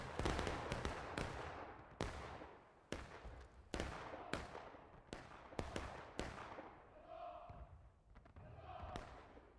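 Musket shots crack out in an irregular volley in the Civil War game War of Rights, about a dozen sharp reports aimed at a stone wall, some near and loud, others trailing off, with faint voices late on.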